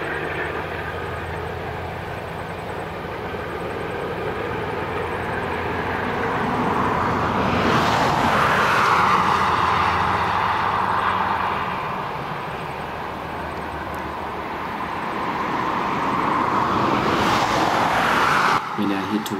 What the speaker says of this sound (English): We now see the train crossing the Waimakariri River as it enters Arthur's Pass National Park.